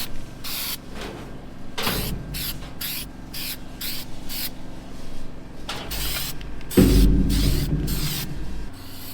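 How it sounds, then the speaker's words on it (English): Aerosol galvanized paint sprayed onto a freshly cleaned weld on a grain elevator down spout, a series of short and long hissing bursts with brief pauses between them, close and fairly loud, with rustling and clanking in the background. "I am cleaning up the weld, and I'm going to hit them with some galvanized paint,"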